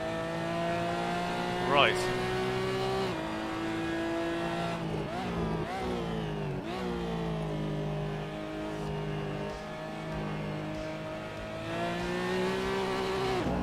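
Porsche race car engine in a racing sim driven on a Fanatec wheel, droning steadily with rising revs and gear changes, loud and continuous, with someone talking over it.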